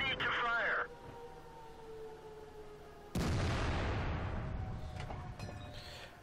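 A tank gun fires in a World of Tanks battle on the Redshire map, the SU-100 tank destroyer's shot landing as one sharp, booming blast with a long rumbling decay under game sounds.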